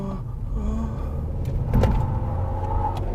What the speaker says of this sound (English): power sliding a 4-cylinder automatic front-wheel drive Altama